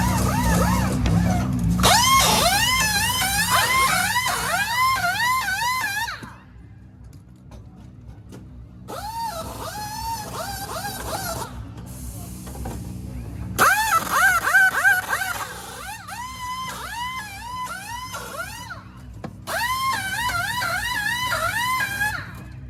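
TCR race cars lap the Daytona track during qualifying, engines passing in loud waves with rising and falling pitch sweeps and gear changes, separated by quieter gaps, with some talk nearby.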